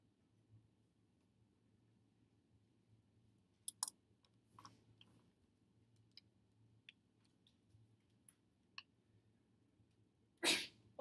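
A single sharp sneeze near the end breaks an otherwise quiet room, preceded by scattered soft clicks and taps.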